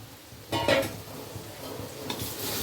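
Dal and rice for Bengali masala khichuri are stirred in a pot: a few close scraping, rustling strokes, with a louder burst early on and another near the end.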